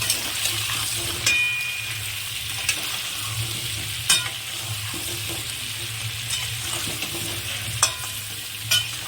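Potatoes frying in a pan with salt and turmeric for mutton kosha: a continuous close sizzle with repeated scraping stirs and occasional sharp clinks of the spatula against the pan, no talking.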